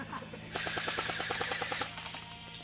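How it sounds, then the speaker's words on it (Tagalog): Continuous gunfire in a firefight involving NPA fighters, a rapid unbroken burst of automatic shots lasting over a second, with dense crackling rounds at moderate distance. "Ayun, dire-diretso ang putok."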